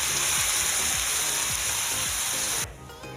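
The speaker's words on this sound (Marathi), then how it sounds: "आता आपण हे सगळ्या साइडने फ्राय करून घेणार आहे।" A boiled egg frying in a pan, a loud dense hiss of hot oil with a faint recurring low thump as it shifts, the sizzle dropping sharply near the end.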